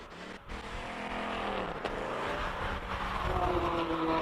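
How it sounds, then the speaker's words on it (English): Mustang race car at a hill climb driving up the hill: a distant engine note swells and accelerates as the car climbs, blending with crowd ambience and a faint commentating voice. "Beautiful Mustang going up the hill."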